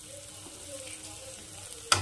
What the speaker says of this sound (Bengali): এটা দিয়েও একটু মশলাটাকে নেড়ে চেড়ে ভেজে নেব।